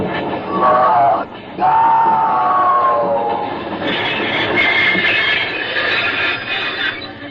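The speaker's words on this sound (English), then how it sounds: "By the ghost of St. Patrick, is a locomotive." A steam-era locomotive rumbles past as a 1940s radio drama sound effect, loud and close, with squealing wheel tones and a brief drop before the roar returns and shifts higher.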